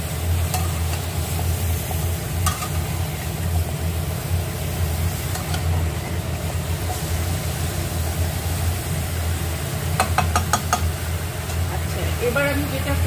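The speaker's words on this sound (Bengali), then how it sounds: "আমি এবার উপর নিচ করে ভালোভাবে কিন্তু এটা নেড়ে নেব" Pumpkin and eggplant fish-head ghonto being stirred in a pan, a continuous low sizzle and rustle with a few light metallic taps of a spatula on the pan, steady and close throughout.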